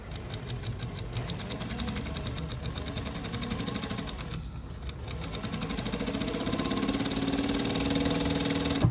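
A Kansai DFB1404-P chain stitch sewing machine with four needles stitching through several layers of fabric, a fast, steady, loud mechanical whir that runs almost continuously and slows briefly near the middle.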